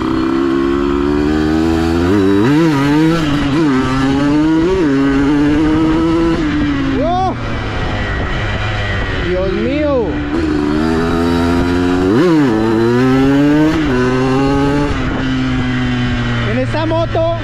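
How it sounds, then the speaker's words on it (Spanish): A Yamaha YZ 125 enduro motorcycle on knobby tyres revs hard and continuously close by, its engine note rising and falling in repeated sharp bursts as it accelerates through the gears. "Dios mío, qué poder de esta moto."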